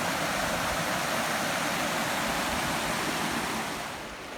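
River water rushes past in a continuous broadband roar, close and steady, easing slightly at the end.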